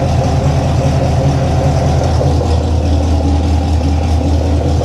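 Chevrolet Corvette C6 engine idling in a garage, a steady, loud, close low rumble with no change in pitch and no talking.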